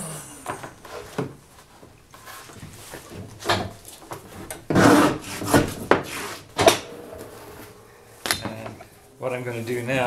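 A new wooden board is sawn to trim its edge for a small clamshell box tray: irregular rasping strokes with several louder bursts, close and fairly loud, with pauses between them.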